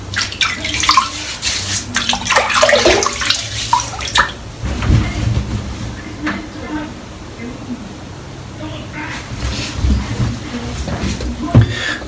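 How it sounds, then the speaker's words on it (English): Cold tap water runs and splashes steadily over a head being wetted before a shave, close and continuous with gurgles and shifting spatter, while someone speaks over it. "Cold water for the head shave today"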